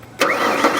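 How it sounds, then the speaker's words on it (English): A car engine cranks over and catches for a brief moment to spin the power steering pump, a loud start-up burst after a quiet lead-in, then a short steady run. "I'm going to turn the car over really quickly. Not a lot, I'm just going to shut it off right away."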